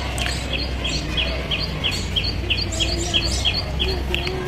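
Birds chirp in repeated short trills against a steady low background hum, their calls fairly close and continuous through the scene with no talking.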